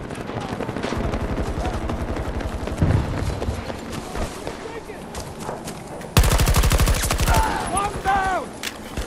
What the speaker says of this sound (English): There goes that friendly fire.